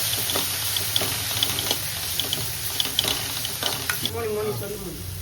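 Bread samosa filling is sautéed in a pan with an even sizzle and scraping stirs, and a brief voice is heard near the end.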